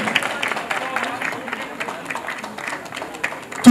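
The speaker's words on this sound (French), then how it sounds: "On l'applaudit s'il vous plaît, on l'applaudit," An audience applauds a Miss Niamey beauty pageant contestant, dense steady clapping from a crowd throughout, with a voice speaking over it.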